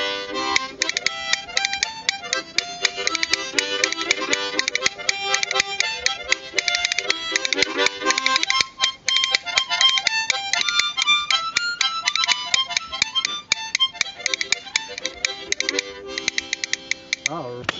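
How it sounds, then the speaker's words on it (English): Cow rib bones clacked together as a percussion instrument, producing rapid, dense, dry clicks in a steady rolling rhythm, close and loud throughout, briefly thinning out midway. "They are just rib bones from a cow,"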